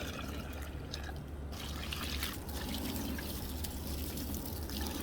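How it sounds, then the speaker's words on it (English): Gritty rock tumbler slurry pours steadily and trickles through a stainless steel strainer, a continuous close wet dribble with a low background rumble throughout. "this slurry mess and slowly dump it out. Yes, this is a stainless steel strainer"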